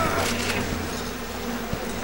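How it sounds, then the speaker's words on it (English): A dense swarm of bees drones steadily inside the video game BioShock, a continuous loud buzz with no pauses and no voices. "Oh god, bees everywhere, in my head, eating me."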